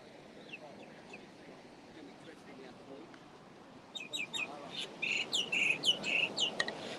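A feral common myna, also called Indian myna, calls near an outdoor eating spot, with sharp, repeated chirps and squawks that grow louder and busier in the second half over a low murmur of background chatter.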